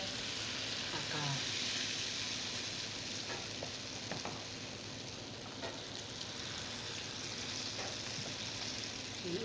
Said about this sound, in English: So guys can see the oil on the fire. It's hot. I have to put the akara now. This palm oil akara.